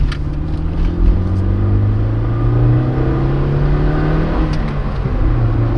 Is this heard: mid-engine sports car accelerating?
yes